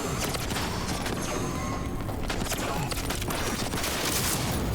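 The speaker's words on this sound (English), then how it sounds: "Are they shooting each other?" Dense, continuous gunfire from a firefight in Cyberpunk 2077, with overlapping bursts of shots crackling steadily throughout under a busy game soundscape.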